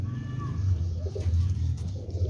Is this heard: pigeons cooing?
yes